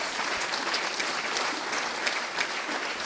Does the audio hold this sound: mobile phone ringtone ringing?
no